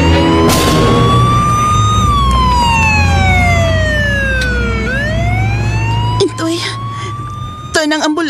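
An ambulance siren wails loud and close, its pitch sweeping up and down in long slow cycles over steady engine rumble, with brief clanks and knocks near the end and voices under it.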